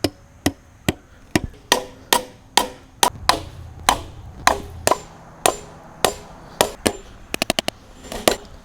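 Hammer blows drive 16D 3.5-inch nails to fasten a wooden beam in DIY cabin foundation framing, about twenty sharp, close, ringing strikes at a steady pace, ending in a quick burst of lighter taps.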